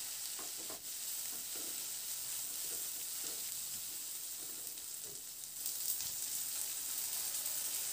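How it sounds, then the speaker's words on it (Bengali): Tomato, chilli and grated ginger stirred in a frying pan for a vegetarian papaya and mung dal dish, a steady soft sizzle with repeated spatula scrapes throughout, close and alone. "এবার আদাটা দিয়ে একটু নাড়াচাড়া করে নিলাম"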